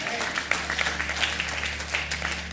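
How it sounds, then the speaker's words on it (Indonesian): Congregation clapping during a Sunday church service, a brief burst of applause from many hands, fairly close and lively, with a voice mixed in. "Tepuk tangan bagi yang ngerti."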